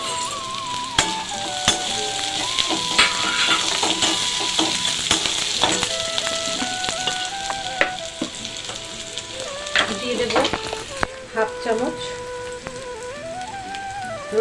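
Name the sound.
whole spices (star anise, cardamom, garam masala, peppercorns) sizzling in oil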